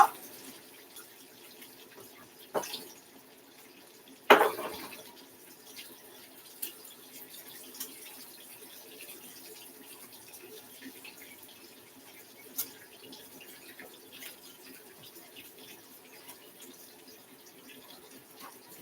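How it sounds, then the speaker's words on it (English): Hands washed under a running kitchen tap before mixing dough, a faint continuous trickle of water with a few louder splashes and knocks near the start, fairly quiet and with no speech. "I'm going to wash my hands because I'm going to have to kind of mix the dough together"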